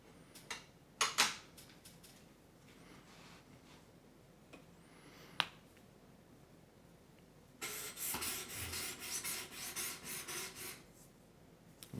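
A Spyderco Para 2 knife edge drawn across a 600 grit sharpening stone, a near, steady run of gritty rasping strokes in the second half, after scattered faint clicks and taps.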